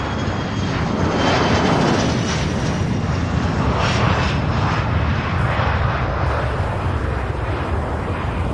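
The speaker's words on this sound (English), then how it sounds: "We've got a takeoff right here in front of us." A jet airliner takes off at Louisville International Airport, a loud, continuous engine roar and rumble heard from close by, steady for the whole stretch with no talk.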